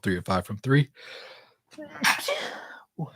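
A sneeze bursts out during a live post-game talk show about a Utah Jazz at Memphis Grizzlies basketball game, following a voice and followed by a broad, breathy trailing sound, close and fairly loud, with speech resuming right after.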